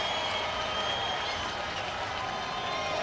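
Baseball stadium crowd at a tight Rangers–Royals game in Kansas City, a steady broad wash of applause and cheering that holds evenly throughout at moderate distance.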